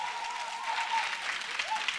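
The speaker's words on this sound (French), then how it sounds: "Applaudissements pour notre beau pays" Audience applause at a live televised singing competition, steady clapping filling the whole stretch at moderate level, with a faint voice or tone drifting through the background.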